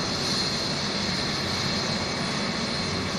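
A helicopter taking off at a hotel helipad, a steady loud engine and rotor roar with a whining high tone, constant throughout with no talk.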